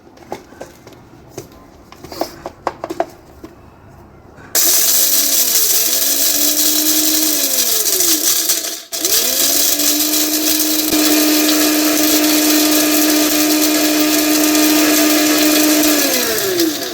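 A kitchen mixer grinder grinds spices into powder for a mutton tomato curry. It starts loudly after quiet handling noises, runs as a steady high whine, cuts out briefly midway, then restarts and keeps grinding to the end.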